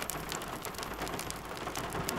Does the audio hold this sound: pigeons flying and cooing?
no